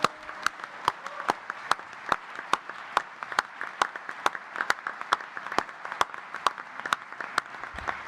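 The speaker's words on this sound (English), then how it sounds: "a massive round of applause because it's on." A conference audience claps in a sustained round of applause, steady and dense throughout with sharp individual claps standing out, no voices over it.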